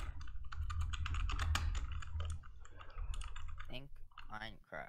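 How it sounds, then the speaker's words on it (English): Rapid computer keyboard typing clatters close by in quick, uneven bursts over a low hum, and a voice cuts in near the end. "I'm just randomly typing shit."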